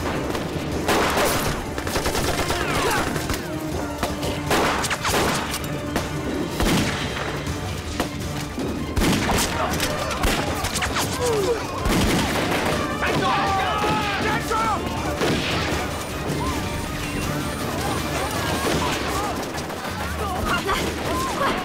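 Soldiers open fire in a Chinese war drama set against Japanese troops: dense, sustained volleys of gunshots with heavy crashes and thuds, loud and continuous across the scene, while voices are heard among the shots.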